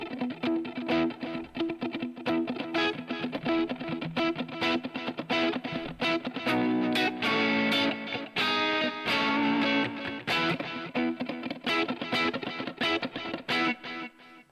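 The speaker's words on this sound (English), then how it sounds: "Let's have a listen to what the digital delay sounds like." Electric guitar played through the digital delay of a Tonex One modeler, set for a bright U2-style sound, with chiming notes repeating in dense echoes, loud and continuous with no talking.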